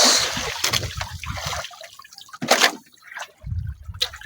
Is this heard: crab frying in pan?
no